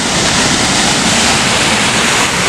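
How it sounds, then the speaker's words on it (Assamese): A waterfall in a rural village, its falling water a loud, dense and unbroken roar that fills the whole stretch with no voices. "পানী চাউণ্ড শুনক।"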